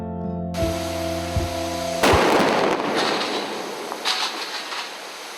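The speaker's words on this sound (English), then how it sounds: "The charges are detonated remotely." Black powder charges detonate remotely in a granite quarry, a sudden loud blast with a rumbling, crackling roll of debris, following a steady mechanical hum.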